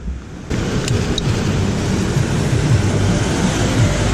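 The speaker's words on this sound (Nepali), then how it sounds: "ल खोला कत्रो ठुलो यार" A large river rushing in the rain during a ride to Makwanpur Gadhi in Nepal, a loud, steady roar of water and rain that swells up abruptly early on and continues without talk.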